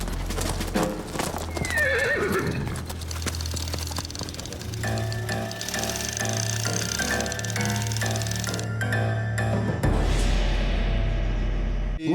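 Horses in a Western film about outlaws gallop with steady, loud clip-clop hoofbeats and let out whinnying neighs, layered over a swelling orchestral score that grows fuller and louder toward the end.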